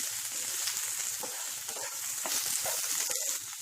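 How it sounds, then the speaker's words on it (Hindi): Two medium chopped onions frying in hot oil over high flame for a matar paneer, a continuous crackling sizzle with occasional stirring, close and alone. "तेल गरम हो चुका है, इसमें डालिए 2 मीडियम साइज की कटी हुई प्याज। हाई फ्लेम पे इसे अच्छे से भून लेते हैं।"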